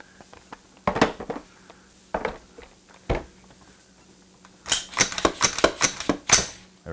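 Metal parts of an AR-15 clatter as the upper and lower are fitted back together and the pins are pushed in. A few sparse clicks and taps come first, then a dense burst of sharp metallic clicks, all close by.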